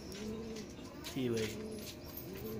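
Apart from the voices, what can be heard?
fancy pigeons cooing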